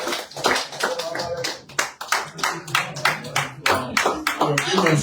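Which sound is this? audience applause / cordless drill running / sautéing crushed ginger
audience applause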